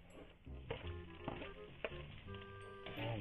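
Chopped onion sizzling in hot oil in a pan with ginger, a steady crackling fry with occasional pops and clinks of a utensil, close and fairly quiet, no talk.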